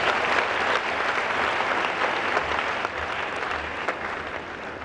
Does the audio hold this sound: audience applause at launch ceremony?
yes